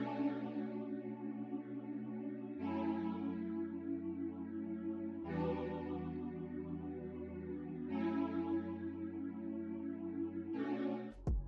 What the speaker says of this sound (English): I went into Analog Lab and pulled up this Wanting preset, just a pad